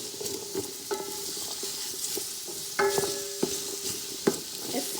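Vegetable fried rice sizzles in a pan while being stirred, with a steady frying hiss broken by scraping strokes and a few sharper utensil knocks, close and alone without talk.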